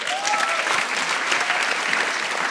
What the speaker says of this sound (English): A round of applause for Anna, please.